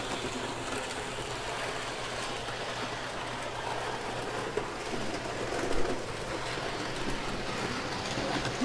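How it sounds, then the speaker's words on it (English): A steady low rumble and rattle of Hornby Thomas and Friends model trains running on track continues throughout, with faint background chirps. "Let's let these trains run around."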